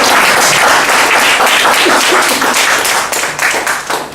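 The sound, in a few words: audience applause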